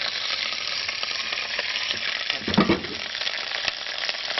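Garlic cloves and a whole fish frying in a thin layer of oil at the bottom of a pot for fish soup, a steady close sizzle with brief louder crackles and stirring.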